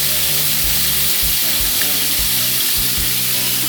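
Pieces of brinjal dropped into a boiling mutton gravy in a pot, giving a loud steady sizzling bubble with low thuds from the pieces going in, close and continuous.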